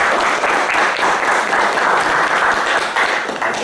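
An audience applauds to welcome a lecturer to a talk on lost black holes, with dense, steady clapping filling the room for a few seconds.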